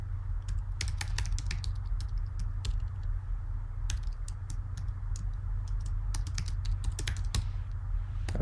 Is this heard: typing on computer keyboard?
yes